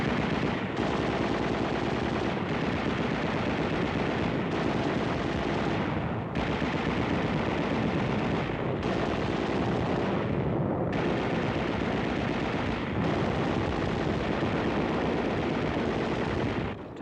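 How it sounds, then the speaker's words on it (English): Heavy automatic machine gun fire in WWII combat footage from the Pacific, with tanks nearby, roaring as a dense, continuous barrage of rapid shots in long bursts separated by brief pauses, loud and close throughout. "running for cover while trying to escape our machine gun fire"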